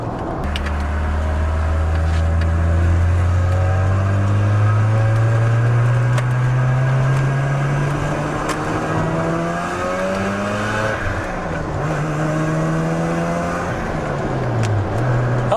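Mazda RX-7 rotary engine with aftermarket intake and exhaust revving up through the RPMs: a loud, steady, mellow drone climbing in pitch, then several quick blips rising and falling, close and continuous.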